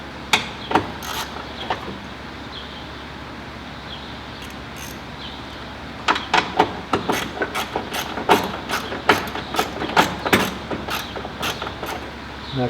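A 7/16 socket on a ratchet snugs down a small 5/16 bolt on the left front door of a 1997 Ford Crown Victoria LX, with a run of close, crisp ratcheting clicks in quick bursts after a quiet start.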